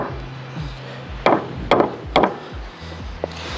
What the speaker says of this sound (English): and then I'll go and then I'll hammer it.